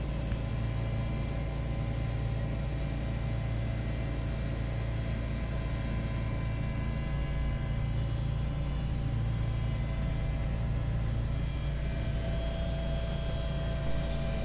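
A helicopter engine idles on the helipad before a Jiribam to Imphal flight, heard from inside the cabin as a steady, loud, low drone with a high whine, no talk.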